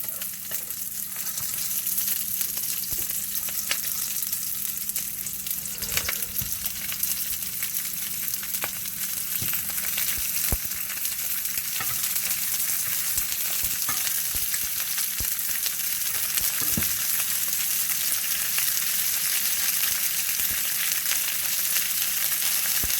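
Cabbage frying on a stovetop makes a continuous dense sizzle, close and even, with scattered crackles and faint stirring clicks and no talk.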